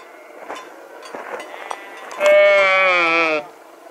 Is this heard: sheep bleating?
yes